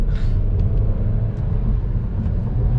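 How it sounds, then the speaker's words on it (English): A 2021 Kia Seltos driven fast, with a steady loud low engine and road rumble filling the cabin throughout, plus a few faint higher clicks and squeaks. "Feels like racing in the Seltos right now."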